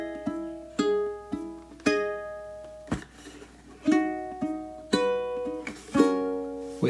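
A ukulele plays two bars of the opera aria Nessun Dorma as plucked notes and strummed chords, about one per second in a steady slow pulse, close and moderately soft with no talking.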